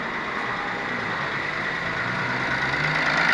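A Ford Ka engine with an abnormal mechanical noise runs steadily at idle, a constant close hum with a faint whine that grows slightly louder toward the end, with no talking.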